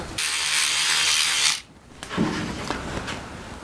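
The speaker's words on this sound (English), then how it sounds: "This is actually a sonic scrubber from Nippy Normans." A handheld sonic scrubber from Nippy Normans buzzes loudly and steadily while cleaning a bike, then cuts off, followed by a few scattered clicks and light handling noises.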